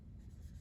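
A pen scratches briefly across paper while notes are jotted down, a faint, close, low rustling stroke lasting under a second.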